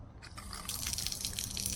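Water sprays steadily from the nozzle of a Roam Adventure water tank mounted on a bed rack, set to full, giving a continuous close hissing gush with slight dripping texture throughout.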